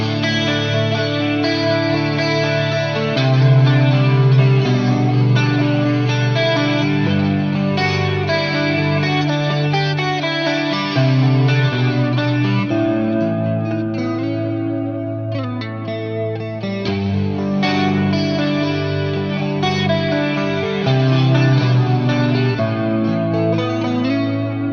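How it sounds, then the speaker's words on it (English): An electric guitar runs through a HeadRush unit with NAM amp models, two chorus effects, one on each side, and a touch of drive. It plays a continuous shimmering, slightly distorted chord passage with no talking. "Now I've got two different choruses going on each side."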